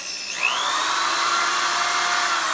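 A motorized buffing wheel for knife stropping spins up in reverse, a steady high whine rising quickly, then holding a constant smooth tone, close and fairly loud.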